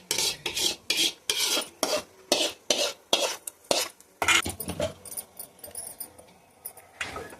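Lentils for tomato dal being stirred in a pan, a spoon scraping and rasping against the metal in a steady rhythmic series of strokes, close and fairly loud, turning to softer irregular scrapes later.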